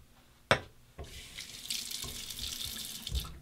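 A razor is rinsed under running tap water, a sharp tap knocking the blade at the start before a steady, close stream of water splashes in a sink for a few seconds.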